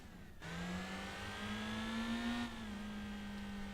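A Daihatsu Copen engine in Gran Turismo 4 revs up and holds at a high pitch, a steady buzzing whine with rising harmonics that eases slightly near the end, heard alone.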